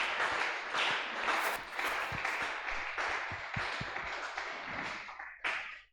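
A church congregation applauds together, dense close clapping with sharp individual claps and thumps throughout, thinning briefly before a final burst.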